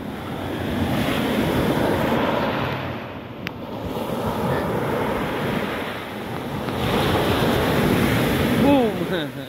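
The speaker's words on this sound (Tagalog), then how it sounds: "Malakas ang alon." Strong ocean waves break along a seaside boulevard, a continuous roaring surf with heavy wind buffeting the microphone, loud and close throughout.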